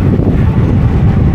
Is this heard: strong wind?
yes